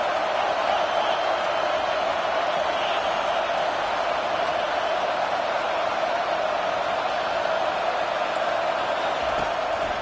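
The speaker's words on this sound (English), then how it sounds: "this crowd will blow out a vocal cord to help this defense" A football stadium crowd roars loudly and without a break to back its defense, a dense, steady wall of cheering noise that holds its level for the whole stretch.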